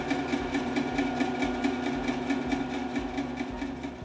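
A Grizzly G0948 10-inch bandsaw runs steadily at speed, its motor giving a close, even mechanical hum with a rapid rhythmic pulsing throughout, no voices.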